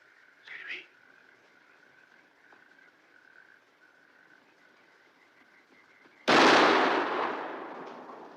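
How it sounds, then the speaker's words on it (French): A single loud gunshot goes off in a park at an old country estate, a sharp close blast with a long decaying tail, after a quiet stretch with a steady tonal hum and a faint voice near the start. "Vous n'avez pas entendu un coup de feu dans le parc?"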